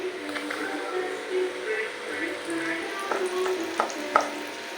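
Chicken pieces for popcorn chicken frying in hot oil, a steady crackling sizzle with occasional sharper pops, close, with people talking over it.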